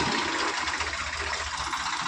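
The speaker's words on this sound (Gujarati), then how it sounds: "જોજો મિત્રો, ટ્રેક્ટરે આવી ગયું." A tractor engine chugs steadily at idle, a low rhythmic knocking rumble that stays close and constant throughout.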